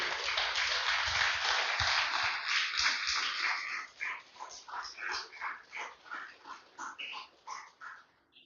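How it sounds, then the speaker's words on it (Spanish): A church congregation claps loudly in praise of the Lord: dense, sustained applause for about four seconds, then breaking into rhythmic, pulsing bursts of clapping with voices mixed in. "Denle un fuerte aplauso al Señor, aleluya."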